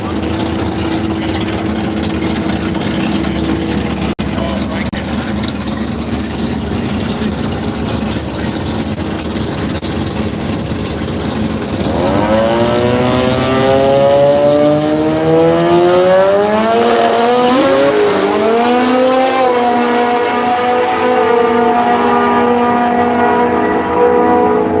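Mazda RX-7 radial drag car at Willowbank, Australia, idling loudly with a burbling rotary note, then launching into a screaming, rising rev that climbs through gear changes and fades down the strip.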